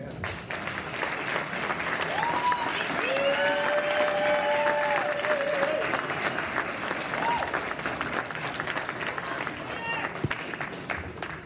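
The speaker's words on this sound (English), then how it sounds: "Let's give them a round of applause." An audience applauds 8th graders standing at a school red carpet media event, a sustained dense wash of clapping and crowd noise lasting several seconds with some voices and whistles mixed in, gradually thinning toward the end.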